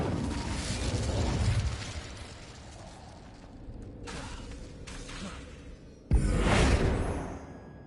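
A Bombarda spell explosion in Hogwarts Legacy, with a loud, broad blast rumbling at the start, fainter crumbling after, and a second sharp burst near the end, with no talk.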